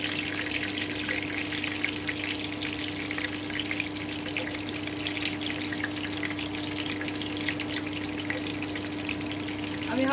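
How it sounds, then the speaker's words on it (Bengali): Chopped garlic frying in a pan for egg fried rice, a steady, close crackling sizzle that holds evenly throughout with no one speaking. "এবারে আমি রসুন কুচিটা দিয়ে দিচ্ছি।"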